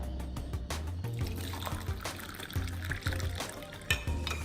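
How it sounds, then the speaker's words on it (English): Hot water pours steadily into a teacup holding matcha powder and raw honey, a close, continuous splashing trickle that fills the cup with a few small bumps. "And some hot water."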